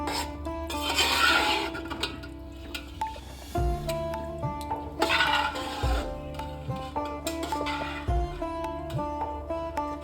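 Mutton for a handi mutton dish gently stirred in a pot, giving repeated soft scraping and rubbing strokes in an unhurried rhythm, close by, with no talking.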